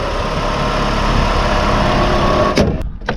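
A 2005 PT Cruiser engine idles steadily and close up, a constant low hum that continues alone before a few sharp clicks or knocks near the end.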